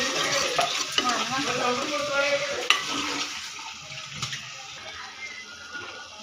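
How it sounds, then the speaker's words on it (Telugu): Onions frying in oil in a home kitchen pan, with a soft continuous sizzle and scraping stirs that are louder early on and then settle into a quieter sizzle. "ఇది ఆనియన్స్ ఇది రెడ్ కలర్లో వచ్చేలాగా వేపుకోవాలి."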